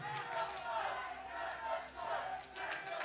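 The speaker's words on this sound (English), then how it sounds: "It's a rowdy crowd." A rowdy arena crowd roars at a 2019 LCS League of Legends match involving TSM. The cheering is dense and continuous, with chanting swells that rise and dip throughout, heard from a distance.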